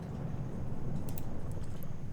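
A warbling sound bug in EVE Online, left after docking with a warp disruptor still active, gives a steady low rumbling drone with a rapid wavering pulse and faint high chirps scattered over it.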